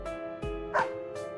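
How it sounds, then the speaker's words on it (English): A dog in the Persona 4 Arena Ultimax fighting game gives three or four short, deep barks, spaced about half a second apart, over steady game music. "The dog barks a grown-up bark."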